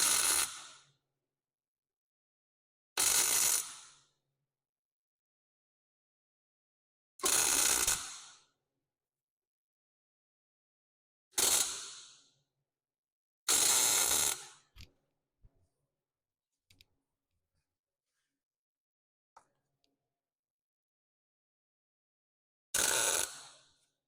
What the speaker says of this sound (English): So I think this kind of weld that I'm doing is called a stitch weld.